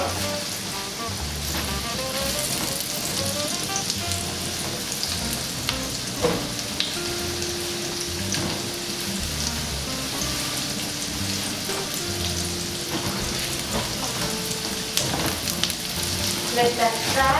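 Onions fry in a pan for a spicy veg pasta, a steady, rain-like crackling sizzle with occasional clinks and stirring knocks. A faint murmur of voice sits in the background.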